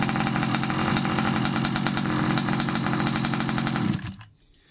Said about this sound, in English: the vehicle will start.